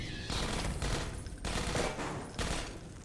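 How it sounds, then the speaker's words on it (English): Sustained gunfire from Half-Life 2: Episode 1, dense bursts of rapid shots rattling on for about three seconds with brief gaps, loud and close with no talking. "Alex, shoot that! Shoot her!"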